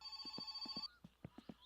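A cell phone rings in the video game My Summer Car, a repeating electronic ringtone pattern of bright tones with short beeps, moderately close and alone at first, then sparser tones.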